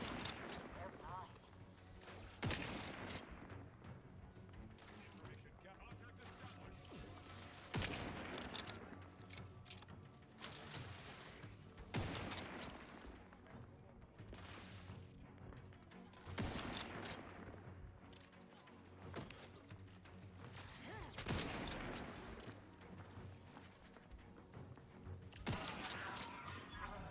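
Gunfire in the video game The Outer Worlds 2, with repeated loud broadband shots in bursts every few seconds over a busy game soundscape, near and punchy, with game voices and mechanical clatter between them.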